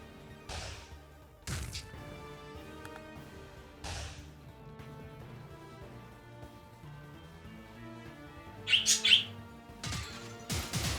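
Birds chirp in the video game Wizard of Legend, a quick cluster of bright tweets standing out near the end over faint background game music and occasional thuds.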